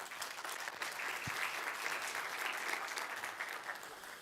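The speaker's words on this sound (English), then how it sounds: "let's give him a hand of applause" Conference audience at KCD Denmark 2024 applauds a talk on Cilium and Dapr integration, steady, fairly soft clapping from a room full of people that continues evenly throughout.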